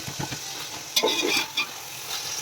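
Tomato masala for home-style mutton biryani frying on high flame while being stirred and smashed, a steady sizzle with short scraping bursts of the spoon, close and alone.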